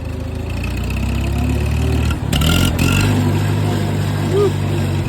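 Allis Chalmers tractor engine running steadily while being driven past a cornfield, a continuous low rumble with a brief dip partway through, fairly close and loud, with no speech over it.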